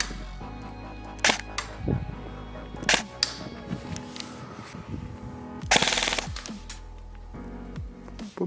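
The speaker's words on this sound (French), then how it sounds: "Test de tir du Chris Vector Crytek." Krytac Kriss Vector airsoft electric gun firing on a test, sharp isolated shots and short bursts of snappy mechanical cracks spaced several times, loud and close against a quiet room.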